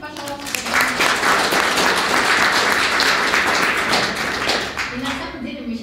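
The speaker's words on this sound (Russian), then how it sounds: "бурные аплодисменты, пожалуйста" Enthusiastic applause from a crowd at a blockchain hackathon event, dense overlapping claps holding steady for several seconds before easing off at the end.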